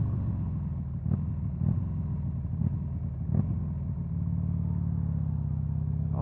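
A Buell XB9SX motorcycle engine heard fairly quietly. A low, rumbling idle carries a few short throttle blips, then settles into a steadier drone.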